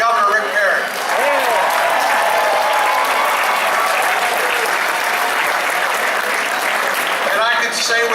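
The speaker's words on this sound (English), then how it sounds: "let's give a round of applause to all of our great leaders" A crowd at the 2014 Texas GOP election night victory party applauds loudly, dense sustained clapping with some cheering that carries on for several seconds without letting up.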